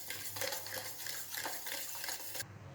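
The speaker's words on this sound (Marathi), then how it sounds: "आता हे व्यवस्थित असं खालीच आपल्याला मिक्स करून घ्यायचं आहे" Sugar being stirred into a mixture in a pan for milk-based sweet shankarpali dough, with steady scraping and stirring strokes and faint sizzling and clinks, then the stirring stops abruptly near the end.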